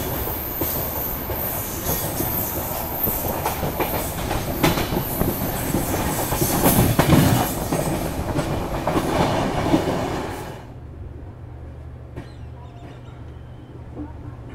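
The 12015 Delhi-Ajmer Shatabdi rolls along the rails near Delhi Sarai Rohilla, a loud, dense rumble with wheel clatter and squeal that drops off abruptly near the end to a quieter hum.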